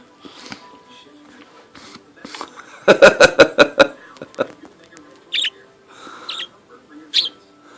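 Budgie chirps and squeaky tweets come in quick bursts, including a rapid rattling series, near and fairly loud with quiet gaps between.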